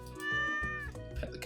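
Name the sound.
cat meowing in video game Stardew Valley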